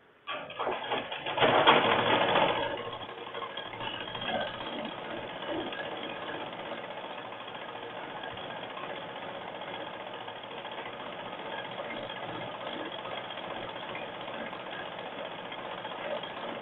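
A sewing machine stitching folded blouse fabric, a steady close whirring run of rapid needle strokes that starts with a louder burst and then continues evenly, alone without talk.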